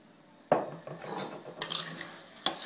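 A spoon scrapes and clinks against a bowl while melted butter is stirred into a crushed biscuit base, a sharp knock at the start then irregular scraping and light taps, close and without talk.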